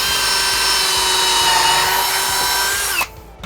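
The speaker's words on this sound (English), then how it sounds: "Start drilling some more pilot holes." A power drill boring pilot holes into the staves of a 100-year-old whiskey barrel, a loud steady high whine for about three seconds before it cuts off abruptly and a brief rattle follows.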